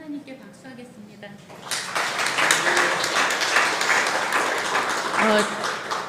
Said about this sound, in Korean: 하나님께 박수하겠습니다.